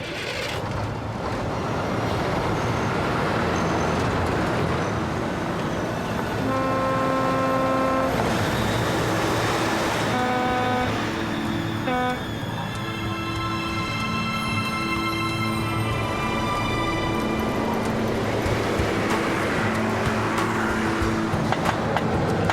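A car being driven, with a steady engine and road rumble running throughout and tonal horn-like or music-like notes layered over the middle.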